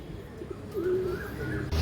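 Pigeons cooing softly nearby, a low throaty coo swelling and fading over a steady background hum, with no talking.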